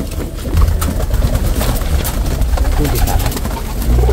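Racing pigeons of rare colour, including a pure white breeder hen, coo steadily and close by, with cooing, wing flutters and loft noise running throughout and a brief spoken word over them.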